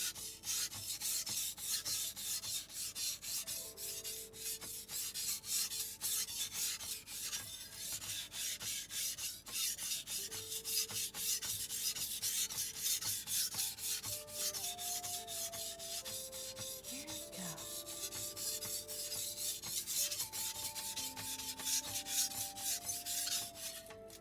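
A blade drawn repeatedly across a whetstone, a continuous close rasping scrape with steady strokes, faint tonal background notes beneath and no talking.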